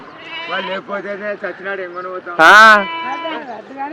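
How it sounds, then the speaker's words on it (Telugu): Several sheep bleating close by, overlapping wavering calls, with one loud, harsh bleat standing out near the middle. "ఇండియన్ గొర్రెలు ఇండియన్ గొర్రెలు ఇండియన్ గొర్రెలు"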